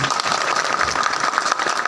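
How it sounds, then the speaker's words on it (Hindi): Election rally crowd in Amarwara giving loud, dense applause for a Gondwana Gantantra Party candidate's supporters; continuous close clapping fills the moment with no voices over it. "उनके लिए मैं जोरदार ताली चाहूंगा साथियों"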